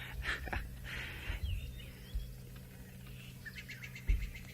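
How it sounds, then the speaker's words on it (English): Faint bird calls and chirps come from a distance in short scattered bursts over a quiet background hum, on a sunset safari. "You can hear the other birds calling on the side"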